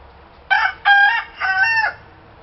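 A rooster among molting chickens gives one clear, close crow in three connected bursts, rising from quiet background.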